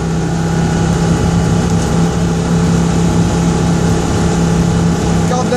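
Inside a Citroen 2CV on the road, the small engine drones steadily with a constant low hum and rumble, loud and close, with no speech over it.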